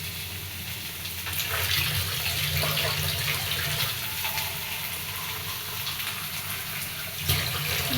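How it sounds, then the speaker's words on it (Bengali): Water streams steadily into a pot of simmering fish curry with potatoes and drumsticks, a continuous close pouring hiss that swells briefly and then settles, with no talking. "ঝোলের জন্য জল দিয়ে দিলাম"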